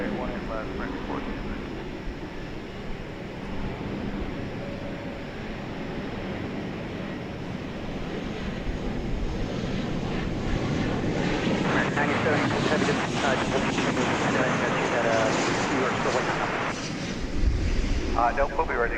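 Airplane taking off at DFW Airport, a broad roaring engine rumble that swells gradually and stays loud under wind buffeting on the microphone, with radio chatter and voices over it.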